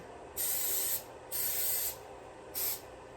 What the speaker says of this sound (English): I'm going to spray them, but I don't know if we're supposed to or not.